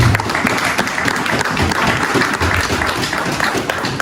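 A church congregation claps together during a Sunday service, a loud sustained applause that fills the room steadily for the whole stretch, with no break or fade.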